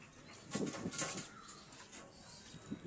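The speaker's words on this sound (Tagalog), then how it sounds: "Yan o mga kalapatids." Pigeons cooing nearby in a backyard loft, soft low throaty coos repeating over faint background noise, with one brief sharp chirp.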